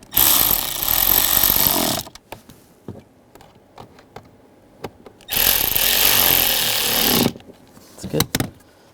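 A power tool drives screws into the seat back of a 2021-2023 Jeep Grand Cherokee L in two loud, close bursts of about two seconds each, with small clicks and taps between them.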